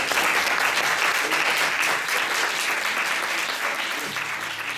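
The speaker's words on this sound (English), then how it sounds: "let's give a round of applause for the champs." A large audience gives a sustained round of applause at a public speaking event, steady dense clapping filling the room and tapering slightly toward the end, with no talk over it.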